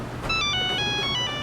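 A phone ringtone chimes with a quick series of bright electronic tones, clear and fairly close, over a low background hum.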